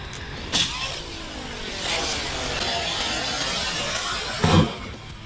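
An Arrma Kraton RC car with a 1650 kV electric motor whines steadily as it drives, rising and falling in pitch, with brief louder bursts at the start and end and no talking.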